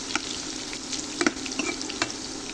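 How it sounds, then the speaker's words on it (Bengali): Carrot chips fry in oil over low heat, giving a constant close sizzle broken by a few sharper stirring knocks and scrapes. "অবশ্যই কম আঁচের মধ্যে ভাজার চেষ্টা করবেন।"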